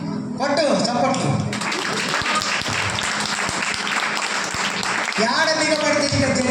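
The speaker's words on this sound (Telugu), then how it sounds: "కొట్టు చప్పట్లు." A crowd bursts into loud, dense applause that lasts several seconds, with speech at the start and at the end.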